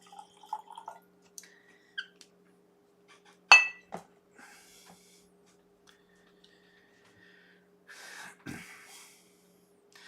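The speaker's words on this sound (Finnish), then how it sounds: "Kaadetaanpas uusi lasi." Tamnavulin whisky is poured into a glass in a quiet room: a sharp glass clink, scattered light taps, then a brief liquid pour near the end, with no talk.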